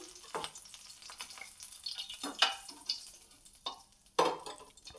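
Potato vada for a fasting-day farali recipe being coated in batter beside hot oil. A steady close sizzle runs throughout, broken by sharp wet taps and scrapes at irregular intervals, with no talking.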